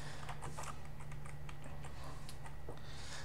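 Computer keyboard typed on steadily while writing code, a run of quick soft key clicks at close range with no talking.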